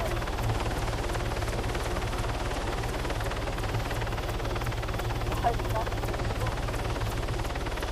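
Helicopter in the video game ARMA 3, a steady rotor thump and turbine drone running continuously and loud throughout, with no other sound breaking through.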